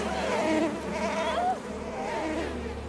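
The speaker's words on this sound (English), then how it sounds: "He can wield bees." Bees buzzing in a scene from the Netflix show Wednesday, a steady close insect drone with wavering pitch sustained throughout, over a low background hum.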